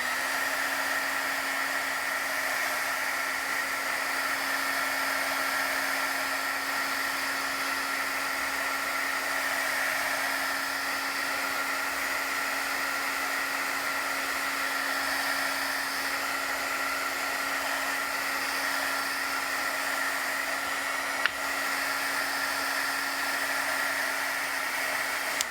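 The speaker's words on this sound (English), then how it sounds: "And I'm just going to dry this so that we can assemble our card." A handheld heat tool or hair dryer blows steadily to dry a Brusho-painted card, giving a continuous, even whirring hum that holds level for the whole stretch with no talking.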